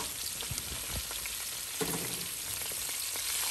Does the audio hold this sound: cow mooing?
no